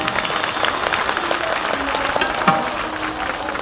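A large crowd at a kirtan for Sant Dnyaneshwar's samadhi ceremony claps loudly and continuously, forming a dense, steady roar of hand claps.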